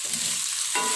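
Beef stir-fried with spice paste in a pan for a sour beef soup, a steady close sizzle that swells louder near the end as the meat is stirred.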